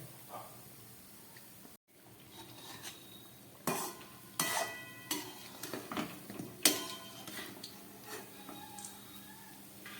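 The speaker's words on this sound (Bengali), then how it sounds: "একদম গ্যাস কমিয়ে এইভাবে নেড়ে চেড়ে ভেজে নিতে হবে।" Homemade biscuits fry in oil in a pan over a low flame while a utensil stirs them, producing scattered metallic scrapes and clinks against the pan over a faint, steady sizzle.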